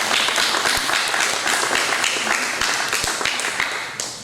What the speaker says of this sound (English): so if you can give her a round of applause, please